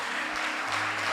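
A church congregation applauds during an Easter communion service, a dense, steady burst of clapping filling the whole short moment, with no talking over it.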